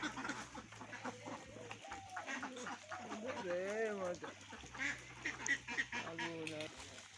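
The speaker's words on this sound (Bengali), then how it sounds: "কি সুন্দর কিন্তু হাঁসে খাবার খাইতেছে" Farm ducks gather at their feed, quacking and honking in a lively, continuous chorus close by while a person talks over them.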